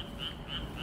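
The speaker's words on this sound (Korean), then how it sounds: "어디서 맹꽁인가 개구리인가?" Frogs croak outdoors on a commute home near a university campus, three rhythmic, evenly spaced rasping calls over a steady background hum.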